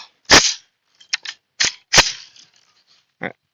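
Barrett REC7 rifle firing 50 Beowulf rounds outdoors: several sharp, loud close-range shots at irregular spacing, each with a short ringing tail, plus a few smaller clicks and one duller thud near the end.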